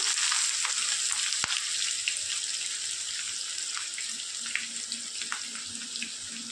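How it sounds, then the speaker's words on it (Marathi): Onion, green chillies and plenty of curry leaves sautéing in a pan for upma, with peanuts added to fry; a steady, close hiss of sizzling oil runs throughout with occasional light clicks, no talking. "कांदा आणि हिरव्या मिरच्या वगैरे परतत आहोत"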